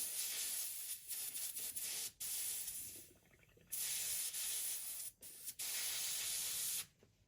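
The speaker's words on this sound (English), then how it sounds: "Clean my airbrush out really good." An airbrush sprays in several long hissing bursts while being cleaned out, with short pauses between them, close and steady, with no talking.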